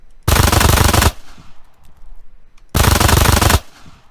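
Video game machine gun from Rogue Spear firing two loud, dense bursts, each lasting under a second, separated by a short quiet gap, with no talk.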